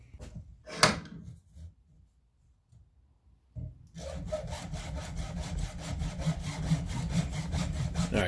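PVC pipe being cut with a hand saw for a brewery pump setup: a few scattered knocks and scrapes first, then a run of rapid, rhythmic rasping saw strokes up close.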